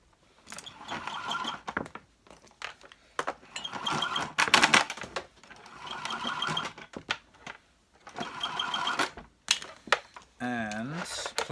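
The power cord of a vintage Electrolux 330 cylinder vacuum cleaner is pulled out in several rattling, clattering bursts separated by short pauses, close to the microphone and ending with a brief rising whir.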